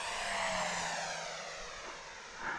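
A Freewing Vulcan 6s EDF jet, an electric ducted-fan radio-control model aircraft, flies past with a steady high whine and whoosh whose pitch sweeps and swells, heard faintly at a distance, with no talking.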